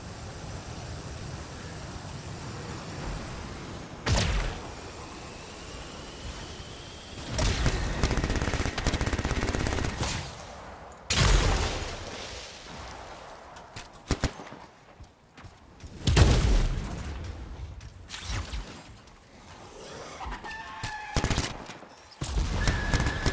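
Video game gunfire from a javelin's weapon in Anthem: repeated bursts of shots and fusillades spread through the clip, punchy and loud over a busy layer of game effects and ambience, with no talking.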